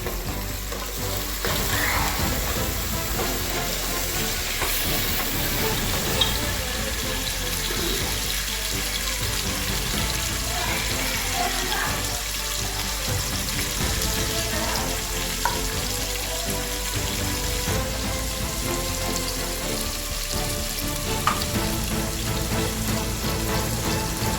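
Onion and tomato fry in oil for vegetable biryani, giving a steady, loud, close sizzle that runs continuously with occasional stirring sounds and no talk.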